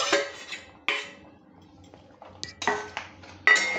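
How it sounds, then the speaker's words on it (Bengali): Fried prawns are added to a boiling curry pot, with several sharp clinks and scrapes of a metal utensil against the pot, separated by short quiet gaps. "ফুটে গেছে, আমি এবার এই ভেজে রাখা চিংড়িগুলো দিয়ে দিলাম।"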